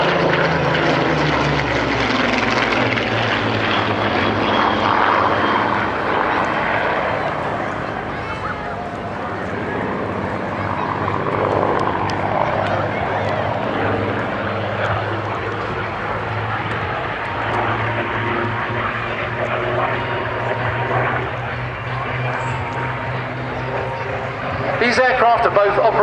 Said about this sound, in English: These aircraft are both operated by the Battle of Britain Memorial Flight up at Coningsby.